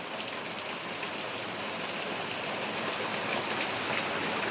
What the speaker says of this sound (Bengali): পাকাতে কুলকুল কুলকুল করে জল পড়ছে।